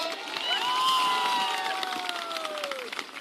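Crowd at a Jan Suraaj public rally led by Prashant Kishor in Saraiya, Muzaffarpur, Bihar, claps and cheers in a loud, dense wash of noise, with a shrill whistle rising and then sliding slowly downward above it.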